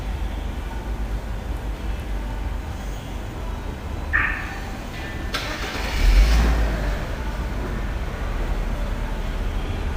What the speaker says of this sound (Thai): ดับเครื่องนะครับกดไว้ที่ปุ่มเหมือนกันนะครับ เครื่องก็จะดับลงนะครับ